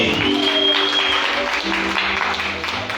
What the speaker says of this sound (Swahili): Patie Bwana sadaka nzuri ya makofi.